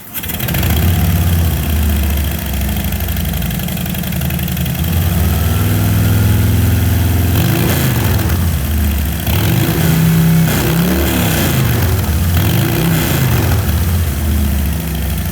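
Harley-Davidson V-twin motorcycle engine running through an aftermarket 2-into-1 exhaust, a loud steady idle with rhythmic low rumble that swells into a few throttle blips partway through, with no talking.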